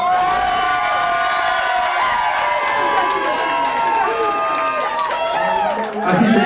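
Crowd cheering and whooping at a rock concert at the Whiskey Barrel, a dense, sustained roar of many voices with shrill shouts rising over it, staying loud and close throughout.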